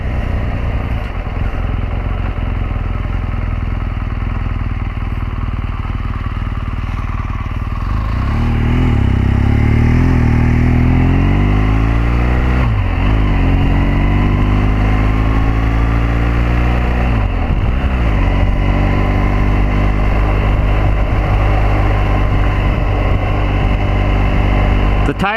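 A 2014 BMW R1200GS Adventure motorcycle engine droning steadily while riding, rising in pitch as the bike accelerates through gear changes, loud and close with continuous wind and road noise.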